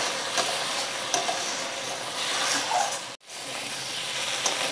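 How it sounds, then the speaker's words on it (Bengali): Spice paste for papaya posto fries in a pan while being stirred, giving a continuous close sizzle and hiss with faint scraping strokes. The sound cuts out abruptly for a moment near the end, then resumes. "এবার মশলাটাকে ভালোভাবে কষিয়ে নেব।"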